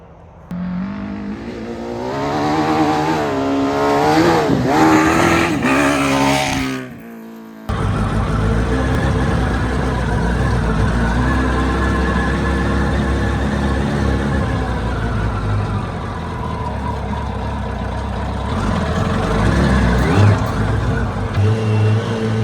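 A mini trophy truck with a Hayabusa engine drives off-road. The engine revs rise and fall loudly, then after a short break it settles into a rough, rumbling drive with more throttle surges near the end.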